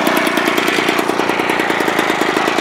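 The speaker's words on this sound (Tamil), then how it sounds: "இப்போ நம்ம ஆக்சிலேட்டர் வந்து கொடுத்து பார்க்கலாம்" A homemade motorized bicycle with a 2-stroke 35cc engine revs hard, giving a loud, close, rapid buzzing putter with fast, even firing pulses that hold steady across the short stretch.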